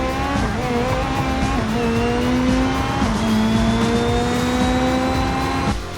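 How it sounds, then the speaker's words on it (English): Video-game drag race pitting a small rally drag car against a tuned Civetta Scintilla Italian supercar: a loud, continuous engine roar climbing through gears with rising pitch, brief shift dips and tire squeal, no talking. "Let's see how our little rally drag racer compares to a tuned-up Italian supercar."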